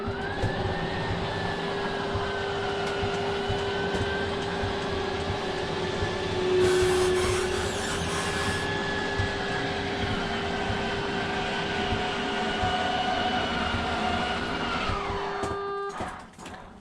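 Electric slide-out motor on a 2020 Forest River R-Pod 190 camper retracting the slide, a steady mechanical whine and hum running for about sixteen seconds with a brief rise in the middle, then stopping abruptly at the end.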